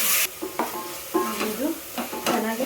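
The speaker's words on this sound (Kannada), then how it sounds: "ಫ್ರೈ ಆಗ್ತಿದೆ ಇನ್ನೊಂದು ಸ್ವಲ್ಪ ಫ್ರೈ ಆಗಲಿ" Tomato rice mixture with salt frying in a pan, a steady close sizzle broken by repeated scraping stirs of a spoon against the pan.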